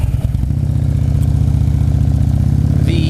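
An Indian Dyna motorcycle engine idling up close, a loud, steady, even rumble with a fast throbbing pulse that holds for the whole stretch.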